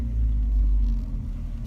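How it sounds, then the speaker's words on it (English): A car backs up with a loud, close, low engine rumble that holds steady and then eases slightly, no voices. "Reversing my car like a boss."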